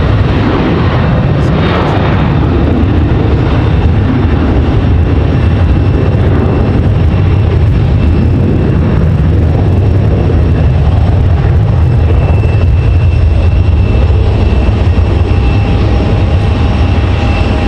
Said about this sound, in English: And there you see Air Canada flying by